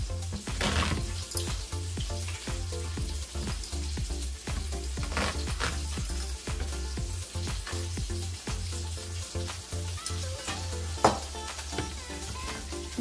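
Bacon fries and sizzles steadily in a pan, a dense, continuous crackle with frequent sharp pops and spits, loud and close, with no voices over it.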